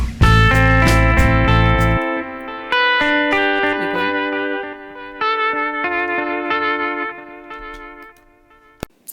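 A hollow-body electric guitar played through a chain of effects without its Vibratone tremolo rings out in chords and picked notes, loud and upfront with reverb and echo tails, fading out near the end.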